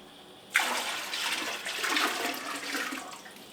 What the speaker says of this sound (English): I'm going to go ahead and try to fill up this stock pot with as much filtered water as possible